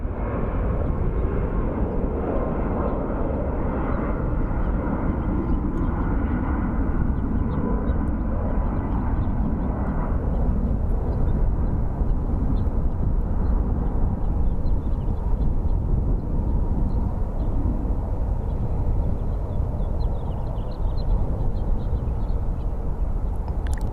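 An Air Canada airliner departs from Phoenix Sky Harbor Airport, its jet roar broad and steady for the whole stretch, loud at first and slowly easing as it climbs away, with a few faint crow caws nearby.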